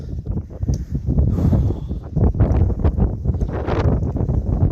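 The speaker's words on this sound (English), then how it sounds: "Sorry, it's very windy up here." Strong gusts buffet a microphone on a windy hilltop, producing loud, continuous low rumbling and flapping that swells and dips in waves.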